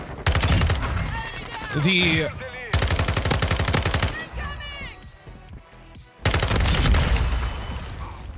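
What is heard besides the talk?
FSS Hurricane gun firing in Call of Duty MW2 video game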